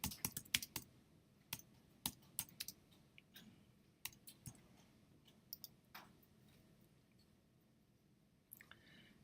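Typing on a computer keyboard: irregular bursts of light clicking keystrokes, close and fairly quiet, with pauses between runs and no talking.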